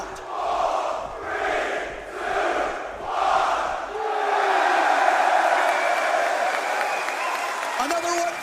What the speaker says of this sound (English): The crowd showing their displeasure.